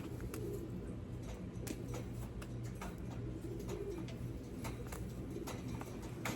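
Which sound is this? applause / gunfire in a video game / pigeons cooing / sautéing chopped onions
pigeons cooing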